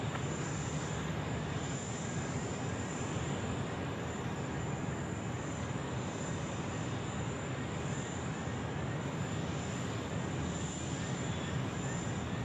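Falcon business jet taxiing out at Sydney airport, a steady broad engine roar and whine holding at a constant level throughout, moderately distant with no voices.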